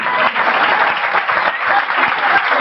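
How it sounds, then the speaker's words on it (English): Dense audience applause with cheering fills the room for a stage entertainer at a hypnotist show in Tenerife, steady and loud throughout with no gaps. "Come on, everybody, big cheer for him."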